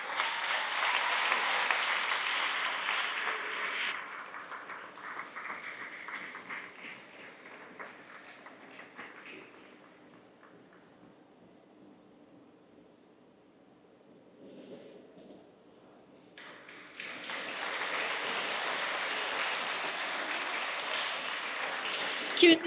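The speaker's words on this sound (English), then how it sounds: "let's give a grand round of applause for these women" An audience at an exhibition opening honoring women at Queen's applauds in a full, sustained round. The clapping fades to near quiet, then a second strong round of applause breaks out.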